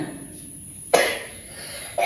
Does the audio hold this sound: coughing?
yes